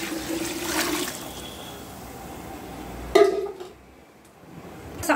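Water poured into a pot of coconut milk for ghee rice: a gushing, trickling stream runs for about a second, then quieter sloshing and clinks follow, close and without talk.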